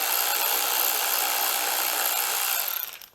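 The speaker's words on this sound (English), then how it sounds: "we can use the electric ratchet and not have any concerns of twisting" Electric ratchet spinning out frame bolts on a Yamaha YZ250FX dirt bike, a continuous high-pitched whirring grind held close and loud for nearly three seconds before quickly winding down.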